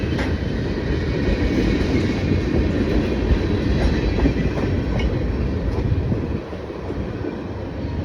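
A train rolls past nearby with a loud, continuous rumble and faint clickety-clack, holding steady throughout with only a brief dip near the end.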